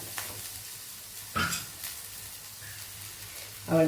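Raw mango pickle with curry leaves frying in a pan, a faint soft sizzle broken by a few brief scraping stirs, heard alone without talk.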